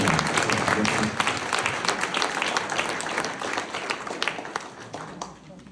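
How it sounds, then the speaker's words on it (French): Sustained applause from a crowd at a public town meeting, dense clapping that stays loud for several seconds, then tapers slightly near the end. "je vous demanderai d'applaudir"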